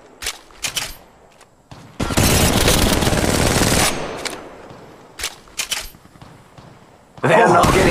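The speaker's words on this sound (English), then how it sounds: "They're shooting at me!" Automatic gunfire in the mobile battle-royale game Apex Legends Mobile, sustained bursts lasting a couple of seconds, with short sharp shots between them and a loud burst at the end.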